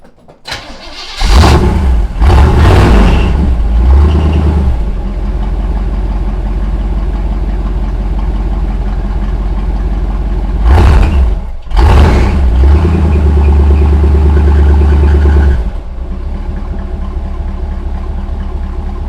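1979 Chevrolet C10 pickup V8 engine cranking and catching, then revving in loud bursts and settling into a steady rumbling idle, close by with no talk, followed by a second pair of revs before dropping back to idle.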